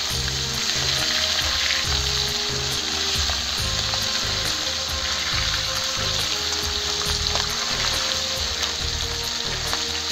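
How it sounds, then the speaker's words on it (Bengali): Tangra fish fry lightly in a pan with a loud, continuous close-up sizzle that holds evenly for about ten seconds, with faint clinks beneath. "মাছগুলো বেশি ভাজবো না, অল্প হালকা হালকা ভাজবো।"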